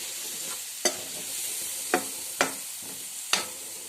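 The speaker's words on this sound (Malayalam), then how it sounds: "വീണ്ടും നന്നായിട്ട് ഇളക്കി കൊടുക്കുക" Chicken curry with tomatoes and a splash of hot water being stirred in a pan, with a steady low simmer broken by four sharp spoon scrapes and knocks at irregular intervals.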